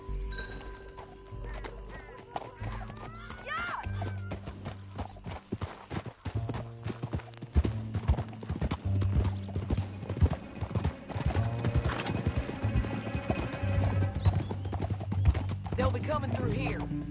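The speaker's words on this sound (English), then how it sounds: "Back on your horse, let's get after them." Horse hooves clip-clop in a steady galloping rhythm while riding in Red Dead Redemption, loud and continuous alongside other game sounds, with a brief whinny and voices in the mix.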